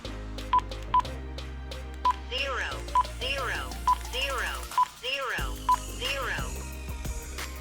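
Keypad beeps on a Radtel RT-590 radio as a frequency is entered: about nine short, clear tones in an uneven rhythm, heard under steady talking and a background hum.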